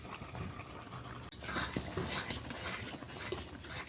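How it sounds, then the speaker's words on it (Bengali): A spoon steadily scrapes and stirs a thick mango paneer sandesh mixture in a pan. The soft, continuous rasping is faint and close, with no voices. "এটা আমি ক্রমাগত নাড়তে থাকবো যতক্ষণ না আমার সন্দেশ রেডি হচ্ছে।"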